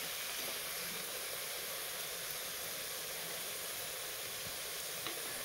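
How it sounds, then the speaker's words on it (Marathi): Puris deep-fry in hot oil with a steady, even hiss and sizzle that fills the whole stretch, close and continuous, without talk. "तर सेम आपल्याला सगळ्या पुऱ्या अशाच थोड्याशा जाड लाटून तळायच्या आहेत।"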